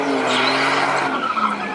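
Car tires skidding and squealing through a burnout at a Bakersfield car meet, a loud continuous screech with engine roar underneath, close and sustained, with no speech over it.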